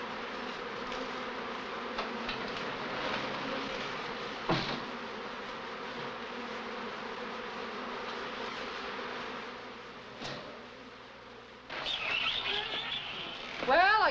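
Bees buzz in a laboratory as a steady, close insect drone that holds throughout, with a few brief knocks and a rising flutter of activity near the end.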